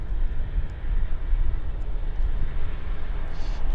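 An airplane on approach at Vancouver airport gives a steady, loud, low engine roar that holds throughout, a broad rumble with no talk over it.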